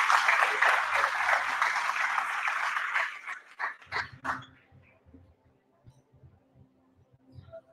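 An audience at a 2023 school award ceremony at Colegio Ena Bellemans Montti claps loudly and densely for about three seconds, then the applause fades to a few scattered claps and faint room noise.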